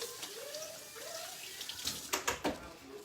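Tap water runs into a kitchen sink while buttery hands are rinsed under it, a steady faint stream with a few louder splashes toward the end.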